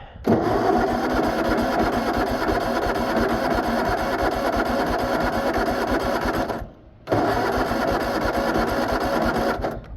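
Small engine on a Rat Rod Gator utility vehicle running steadily and loudly with a rapid knocking rhythm, cutting out briefly near the seven-second mark before picking straight back up.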